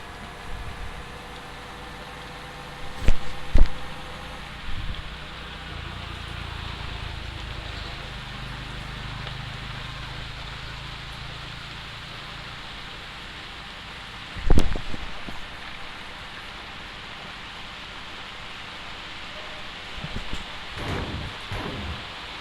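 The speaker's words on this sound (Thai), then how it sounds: "ฝนตกอยู่แล้วทุกคนในชีวิตจริงก็ฝนตกนั่นแหละ" Game rain steadily hissing in Bus Simulator Indonesia while driving a pickup truck hauling young coconuts, with a few sharp thunder cracks and low rumbles breaking through near the start and the middle.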